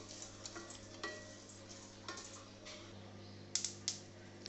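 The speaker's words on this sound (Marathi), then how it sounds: "पोहे पण भाजून घ्यायचे आहेत" Flattened rice (poha) dry roasting in a pan, giving a steady soft rustling and scraping as it is stirred, with light clicking taps from the spoon throughout.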